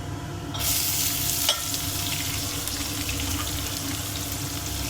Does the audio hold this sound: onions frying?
yes